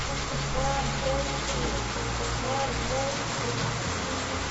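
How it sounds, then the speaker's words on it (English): Steady rain patters and hisses in a continuous, even wash of noise with no voices. "Man, it's raining out there"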